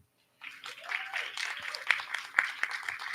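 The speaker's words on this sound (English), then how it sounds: "so they deserve another round of applause" An audience at a school board meeting gives a brief round of applause, a soft, distant patter of many hands with a few sharper claps standing out before it thins.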